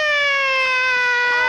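An Italian ambulance siren wails loud and close in a steady sustained tone that slowly glides down in pitch, rich in harmonics.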